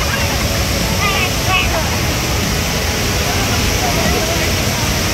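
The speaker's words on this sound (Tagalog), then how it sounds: "makikita nyo yung napakaganda na falls at tumatalsik pa yung tubig" Waterfall at Lake Sebu, South Cotabato, roaring as a steady, dense wash of falling and splashing water, loud and close, with no let-up throughout.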